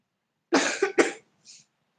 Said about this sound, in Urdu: مجھے آج کھانسی لگی ہے تھوڑی سی